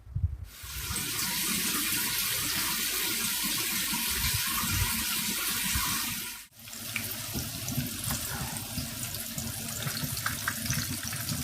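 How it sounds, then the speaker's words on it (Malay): Water runs steadily from a tap into a bowl of vegetable batter for Indonesian-style bakwan fritters, a continuous close splashing gush with a brief break partway through. "baru kita tambahkan air."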